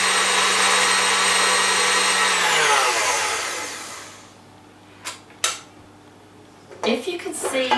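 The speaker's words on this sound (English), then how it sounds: "But if you've got a tabletop mixer, you don't need to do that. So I'm going to put this on maximum speed" A tabletop mixer whisks eggs for a Swiss roll at maximum speed, a loud steady whirring drone that winds down and stops, followed by a few sharp clinks of utensils against the bowl.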